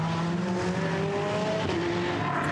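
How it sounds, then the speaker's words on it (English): GT race cars in a Blancpain GT Series qualifying session, engines droning loud and continuous as they accelerate out of the pit lane, with overlapping rising and falling engine tones. "Still cars leaving the pit lane well inside the second half of this 20-minute qualifying session"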